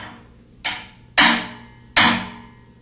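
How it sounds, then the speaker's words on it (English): A hammer taps a hex wrench tool to seat the inner tub seal: three sharp metallic strikes, the last two louder, each with a brief ringing decay, close and alone. "tap the tool with a hammer to force the upper half of the inner tub seal down"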